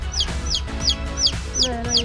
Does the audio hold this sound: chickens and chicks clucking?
yes